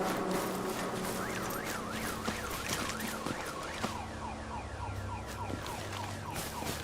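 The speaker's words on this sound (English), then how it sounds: "Fire alarm randomly going off over there." A fire alarm sounding somewhere off in the distance in the S.T.A.L.K.E.R. Anomaly game, a repeating rising-and-falling wail over a dense, noisy background.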